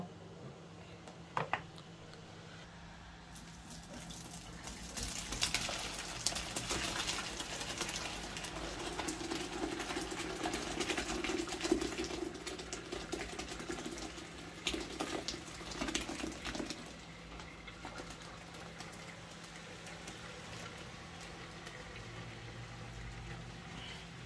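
Freshly made chhana is strained to drain off its whey, a soft steady trickle and splash of liquid with light clinks and handling noise, fairly faint and close, with no talking.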